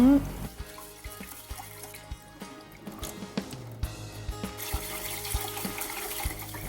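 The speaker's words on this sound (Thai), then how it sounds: "นำมาล้างน้ำสองครั้ง" Sticky rice is rinsed in water, with sloshing, swishing and dripping that come in irregular bursts close by, mixed with scattered clinks and rustles.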